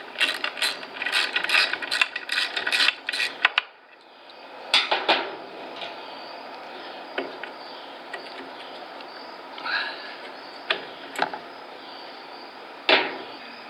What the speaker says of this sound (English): So step one is removing this back brace here, and it's just two little bolts that go in,